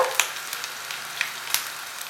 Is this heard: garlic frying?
yes